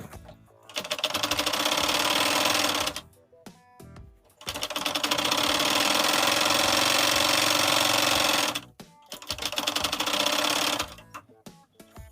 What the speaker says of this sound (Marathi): तर हे आपण ही सरळ बाजू आधी शिवून घेणार आहे।